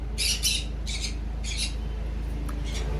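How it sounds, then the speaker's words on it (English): A Congo African grey parrot lets out several loud, harsh squawks in short bursts, close by, with pauses between calls and a low background hum. "This is a Congo African gray parrot."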